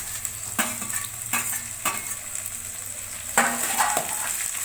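Onions and green chili sautéing in hot oil in a pan, a steady close sizzle broken by a few louder bursts of stirring and scraping.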